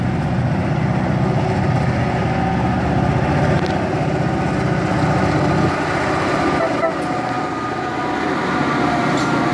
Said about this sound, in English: Both of these locomotives are old GP38-2s, built in the 70s.